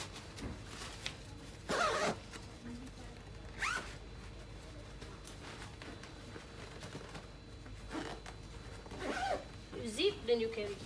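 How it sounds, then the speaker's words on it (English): Several short zipper pulls close a stroller inside its travel bag: quick, close raspy bursts separated by quiet pauses, the last ones clustered near the end, with no speech over them. "Zip then you carry."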